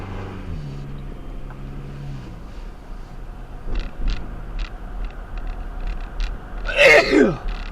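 A single sharp sneeze bursts out near the end, loud and close, after a stretch of low background hum and faint clatter.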